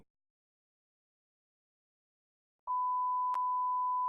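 A steady electronic beep tone, a single sustained pitch starting suddenly after nearly three seconds of silence and holding to the end, with a brief click partway through.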